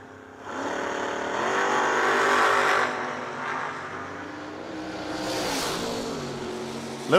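Drag racing cars at the Yellow Bullet Nationals, among them a 2002 Camaro, launch with loud roaring revs that swell and fade as they pull away, followed by a second rising surge near the end.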